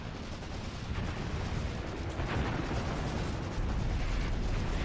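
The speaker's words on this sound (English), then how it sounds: "I do hope that this artillery strike does at least some damage to the attacking infantry" Artillery strike in the war game Graviteam Tactics, a dense continuous rumble of distant explosions and booming fire, deep and sustained with no pauses.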